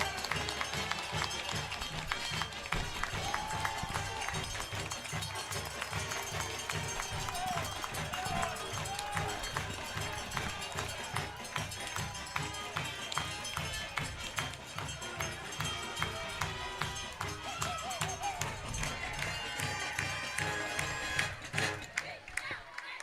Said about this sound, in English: as you can tell for the home crowd getting a little bit loud